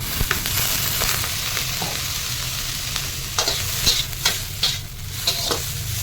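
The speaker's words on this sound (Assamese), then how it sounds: "চাওমিন বনালে এটাই কাম, লাৰি থাকা।" Chicken chow mein being stirred in a frying pan, steady sizzling under repeated scraping and clanking strokes of the spatula, close and loud.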